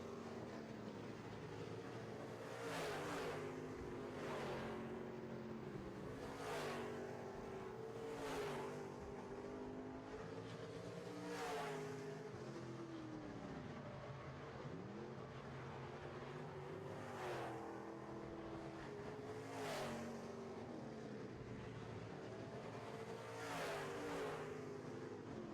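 Midwest Modified race cars racing around a track, engines droning steadily with repeated passes swelling and fading as cars sweep by, a continuous layered roar throughout.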